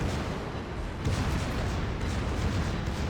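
Secondary guns of the German battleship Schlieffen firing in World of Warships during a convoy battle: dense, continuous rumbling gunfire and booms, loud and sustained with no clear breaks.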